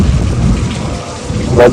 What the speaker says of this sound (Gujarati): વરસાદ થઈ ગયો ચાલુ